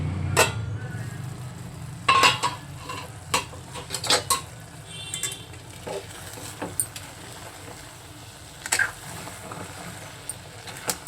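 Aratikaya (raw banana) curry stirred in a cooking pot, with a scatter of scraping clinks and taps from a spoon against metal, a few sharper knocks, and a lid set down, over a low simmering background.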